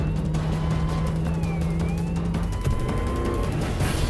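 A vehicle drives steadily with a continuous engine rumble and road noise, close and fairly loud, with a brief whine and squeal partway through.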